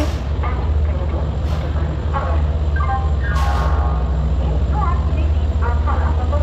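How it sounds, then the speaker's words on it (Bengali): The Howrah Ahmedabad Superfast Express rolls into a busy station platform, a steady heavy low rumble with high squealing brake tones building midway, while waiting passengers talk and bustle nearby. "ট্রেন ঢুকছে,"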